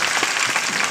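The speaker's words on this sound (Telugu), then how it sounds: "కొట్టు చప్పట్లు గట్టిగా" Loud, continuous applause from a crowd at an outdoor Christian gospel meeting, a dense steady patter of clapping hands with no voices standing out.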